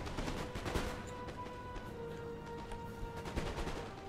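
Musket volleys crack out in Napoleon: Total War, a dense fusillade of rolling shots layered over constant battlefield din, with several louder bursts standing out from the steady background gunfire.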